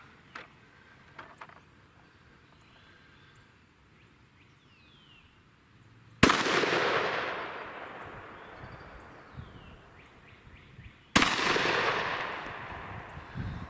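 Two loud, sharp gunshots from a 10mm pistol at an outdoor shooting range, several seconds apart, each followed by a long echoing decay, with quiet ambient noise and faint birdsong between shots.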